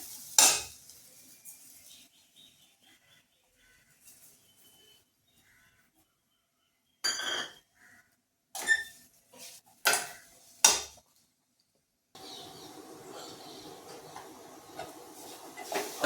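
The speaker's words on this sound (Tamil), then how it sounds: "ஜீனி போட்டு நல்லா கிண்டி வச்சு" Sugar is stirred into moong dal puttu in a pan: sparse scrapes and clinks of a spoon against metal, separated by near silence, then a few louder bursts of scraping and a soft steady hiss toward the end.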